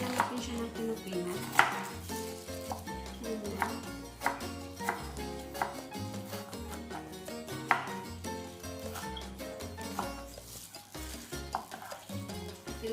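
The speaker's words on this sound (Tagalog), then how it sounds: "Una, hiwain natin yung white onion. Hiwain lang natin siya ng pinupino." A knife finely chops white onion on a board for a tuna avocado salad, with quick, steady taps in an even rhythm close by and music playing underneath.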